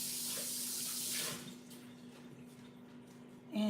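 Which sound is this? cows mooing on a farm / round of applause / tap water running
tap water running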